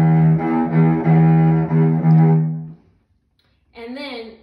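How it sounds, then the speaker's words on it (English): A cello bowed with too little bow pressure makes an airy, thin sustained tone in a few close bow strokes, then fades to silence before a voice briefly speaks. "Or you could put too little pressure, which will make the sound be very airy."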